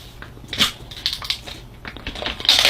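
Someone scrapes and digs into a toy's artificial snow, producing close, crunchy, irregular scratching bursts that grow denser toward the end.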